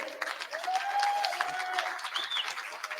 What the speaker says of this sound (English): Clap it if you feel it.